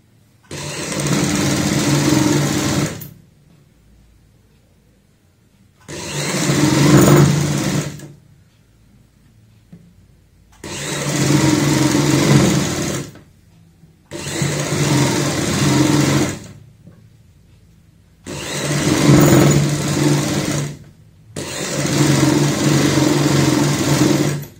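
Sewing machine stitching a kurti seam with a half-inch margin, running in six steady bursts of a few seconds each separated by short pauses, loud and close with no talk.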